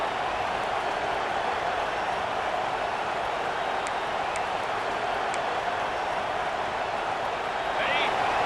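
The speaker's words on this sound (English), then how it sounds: "Listen to the crowd energy here in the early going." Continuous dense roar of a large stadium crowd at a Penn State vs Michigan football game, loud and sustained, with faint whistles near the middle.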